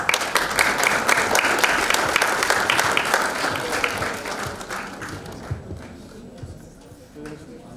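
Audience at a campaign winner announcement event clapping to welcome the show host, a dense burst of applause that gradually thins into scattered claps, with faint talk underneath as it fades.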